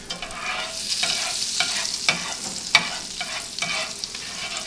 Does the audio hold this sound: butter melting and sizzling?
yes